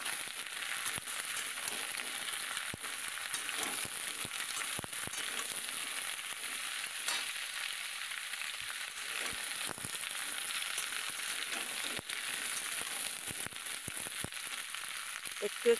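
Bottle gourd and beans frying together in a pan give a steady bright sizzle with occasional sharp clicks and stirring scrapes, close and continuous throughout.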